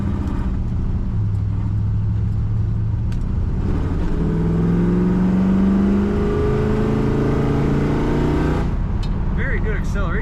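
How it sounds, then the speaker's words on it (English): A 1980 Pontiac Trans Am Indy Pace Car accelerates hard, its loud engine roar climbing steadily in pitch through the gears before easing off at the end. "Very good acceleration from this car."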